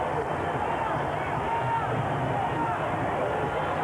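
A sellout basketball arena crowd of about nineteen thousand stands during a tied late-game possession, a dense roaring hubbub of cheering and chatter filling the whole stretch evenly, with a broadcast commentator talking over it.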